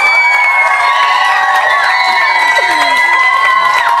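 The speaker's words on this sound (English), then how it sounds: "Should we clap him? Yeah, let's clap him." A studio audience on a sports quiz show cheers, whoops and shouts in a loud, dense crowd roar that lasts throughout, with a few excited high voices rising above it.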